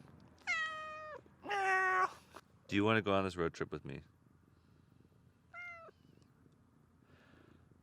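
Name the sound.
cat meowing in the desert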